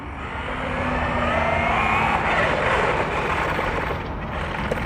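A $150–$1000 electric RC truck drives past with a steady whirring motor and tire noise, rising and falling gently for several seconds with no voices.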